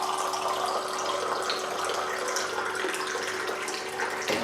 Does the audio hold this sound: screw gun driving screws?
no